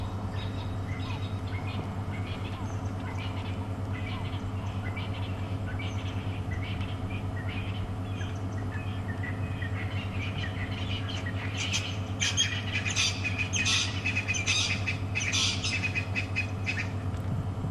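Francolins call at dusk on an African safari, sending out faint, repeated chirping bursts over a steady low hum, with the calls growing denser and louder toward the end.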